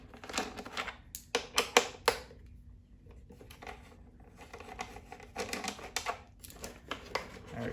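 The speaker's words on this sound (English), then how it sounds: "we're just going to take these screws out to make it easy to move the plastic" Screws being removed from the rear tail plastic of a 2020 Triumph Street Triple RS make close, faint clicks and rattling taps in bursts, with quiet pauses between them.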